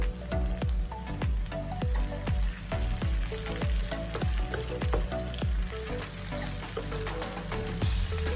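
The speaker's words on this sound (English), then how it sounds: "Now it's time to put the oil on the pan and those veggies in that grease. And we're going to saute them until they're nice and tender." Vegetables for steak fajitas sizzle in hot oil in a pan, a steady crackling frying hiss broken by repeated rhythmic scraping and stirring strokes throughout.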